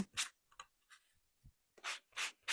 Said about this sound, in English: let's go through and lightly sand our wings just a little bit, just to smooth those wood fibers down